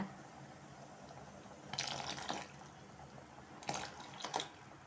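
Water splashes into a pot in two short pours, with quiet background between them and no talking.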